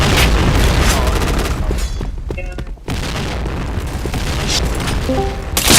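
Grenade blasts in an online shooter game, loud booming explosions and gunfire dense throughout with a brief lull midway, then a sharp final blast.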